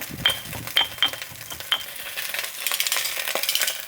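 Onions browning in a pot for a one-pot zucchini meal, with light metallic clinks of a utensil against the pan early on, then a rising crackly sizzle, close and fairly loud.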